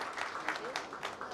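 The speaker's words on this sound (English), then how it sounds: "So a big round of applause." Audience applause at a dairy technology faculty event, a dense patter of many hands clapping steadily, moderately faint and continuous throughout.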